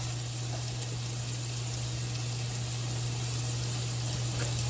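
A steady, dense bubbling hiss of rice boiling in a pot of water continues without pause, with a constant low hum underneath and no talking.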